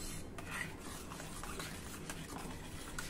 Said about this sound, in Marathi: नारळाचं दूध घातल्यानंतर आपण गॅस बंद करून टाकूया आणि हे एक वेळा नीट मिक्स करून घेऊ।